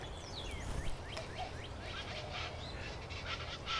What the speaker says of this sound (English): The chachalaca is a medium-sized bird